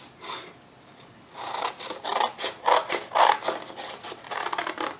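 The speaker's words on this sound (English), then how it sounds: "I'm going to bring in my snips, and I'm going to cut up these 2 lines right here" Snips cut through card stock in a run of short, rhythmic crunching snaps that grow stronger, close-up and fairly quiet, as lines are cut into a box card.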